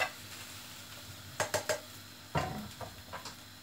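An egg wrap cooking in a pan, with a soft sizzle and a few sharp utensil taps and scrapes against the pan in irregular clusters, close and moderately loud, no talk.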